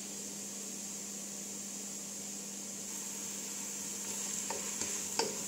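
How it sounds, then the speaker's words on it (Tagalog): Ghee melts and sizzles softly in a pan with onion, a close, even frying hiss with faint clicks of stirring near the end. "Hintayin ko lang mag-melt yung ghee."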